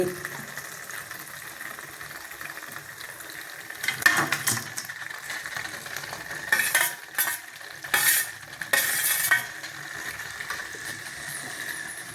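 Chicken pieces stirred while frying in a pan for chilli chicken, with a steady sizzle underneath and a few scraping, clattering bursts of spatula stirring partway through.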